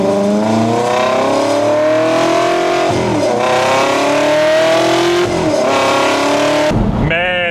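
Ferrari engine revving hard while driving, loud close howl that climbs in pitch with several sharp gear shifts before cutting off near the end.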